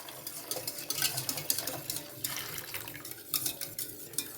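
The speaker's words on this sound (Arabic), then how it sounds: "ونخلطوهم مزيان على هذا الشكل هذا." A milk mixture for homemade yogurt is stirred in a bowl, giving soft, irregular liquid swishes and light scraping clinks, fairly quiet and close with no talking.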